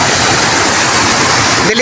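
Loud, continuous roar of floodwater from heavy upstream rain churning and surging like breaking waves, close and unbroken throughout.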